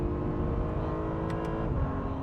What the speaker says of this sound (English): And now we can hear the engine sing.